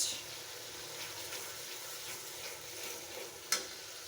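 Green chilies dropped into a pan of frying hilsa fish curry with beans, a steady soft sizzle running throughout with one brief sharp crackle near the end; no talking.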